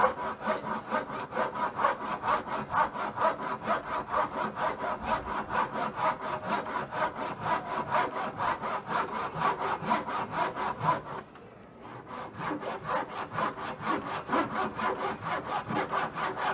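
A hand saw cuts through wood at a heritage demonstration in a fortress, making fast, regular rasping strokes that continue steadily, with one brief pause partway through before the sawing resumes.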